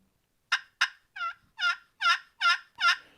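A wild turkey gobbles in a run of about eight loud, close calls, the first two short and sharp and the rest longer rolling gobbles, each separated by brief pauses with no talking.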